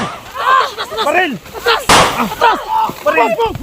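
One sharp gunshot bang cuts through frantic shouting voices as people in a prisoners' camp cry out and call to each other.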